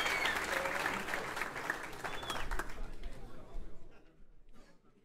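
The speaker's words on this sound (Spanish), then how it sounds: "Un aplauso para Leo," Audience applause on a Spanish-language reaction livestream, a dense wash of clapping that gradually thins and trails off toward the end, with voices mixed in underneath.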